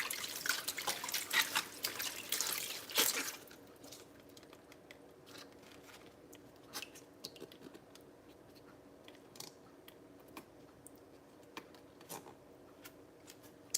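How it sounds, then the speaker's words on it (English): Collard greens being scrubbed and washed by hand under running tap water, a louder burst of splashing and rubbing at first, then quieter intermittent drips and rustles close by. "I'm really scrubbing these veggies to make sure there's nothing on there that shouldn't be"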